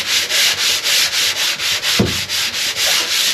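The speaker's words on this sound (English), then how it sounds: "Get your sander. This is real wood. sand over it." A power sander runs on a large real-wood veneer panel, a loud steady rasping hum pulsing rhythmically up close, with a single knock partway through.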